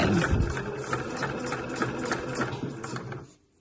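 Domestic sewing machine stitching the seam of a slouch bag in normal thread after a short backstitch, a steady close mechanical whirr with rapid rattling needle strokes that runs continuously and then stops near the end.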